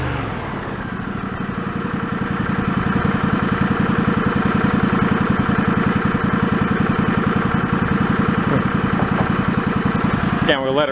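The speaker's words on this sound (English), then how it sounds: "It seems like it's idling okay." A John Deere yard tractor engine, just repaired after flooding, idles steadily and loudly with an even low chugging pulse that holds throughout, briefly disturbed near the end.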